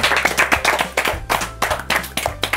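Kids and adults at a church children's show clap together in a loose, fairly loud burst of close claps over a low steady hum, running the whole short stretch.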